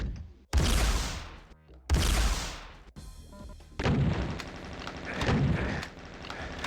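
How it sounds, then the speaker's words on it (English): Super shotgun blasts in multiplayer Doom ring out as loud, close booming shots, two sharp reports followed by further heavy firing and explosive rumble, with no voices. "Not afraid to lean on the old Doom favorite, the super shotgun"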